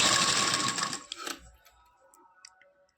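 A sewing machine stitches lace onto a dupatta in a fast, close, rhythmic whir that runs for about a second. It stops, and a few light clicks and taps follow.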